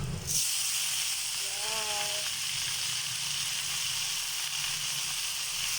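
Water spinach (kangkong) dropped into a hot pan, producing a loud, steady hiss and sizzle that starts abruptly and continues unbroken, close and full, with a brief squeal partway through.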